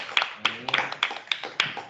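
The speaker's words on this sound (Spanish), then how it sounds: "un fuerte aplauso para todos" An audience at an academic research seminar applauds, with sparse, distinct hand claps close by in an uneven rhythm, and a voice briefly audible underneath.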